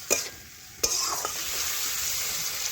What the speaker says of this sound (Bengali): নাড়াচাড়া করে ভালোভাবে মিশিয়ে নিলাম সবজিটা।